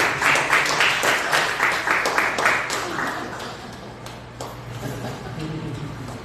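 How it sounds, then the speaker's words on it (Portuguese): A church congregation claps together in sustained, dense applause that gradually thins out, with a voice audible faintly among the crowd. "Se você se alegra, aplauda o nome do Senhor."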